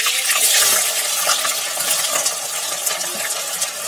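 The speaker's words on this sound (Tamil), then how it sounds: "உரிச்சு வச்சிருக்கிற கருவேப்பந்தலையையும் வெங்காயத்தையும் போடலாம்" Curry leaves and onion sizzle in hot oil in a pan, a loud, close, steady hiss with faint stirring scrapes and no talking.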